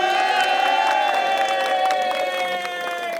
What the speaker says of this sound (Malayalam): ഒന്ന് കൈയടിച്ച് പ്രോത്സാഹിപ്പിക്കാം.